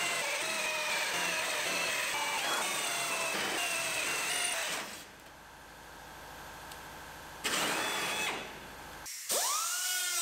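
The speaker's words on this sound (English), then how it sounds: "and then drill off our spot welds." Power drill boring out spot welds on the cab of a rolled-over Chevrolet Silverado, a loud continuous high-pitched whine with shifts in pitch, a brief lull, then renewed drilling and a final short burst.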